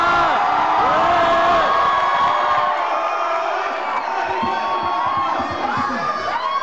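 Children at a summer camp cheer, whoop and shout for their group during a game of musical chairs, a loud continuous crowd din with overlapping excited yells throughout.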